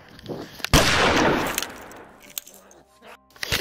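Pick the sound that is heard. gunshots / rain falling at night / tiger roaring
gunshots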